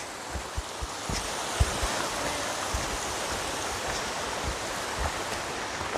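A creek flowing through a North Cascades forest near Happy Creek Falls, a steady broadband rushing and splashing of water close by, constant throughout with small knocks at the start and no voices.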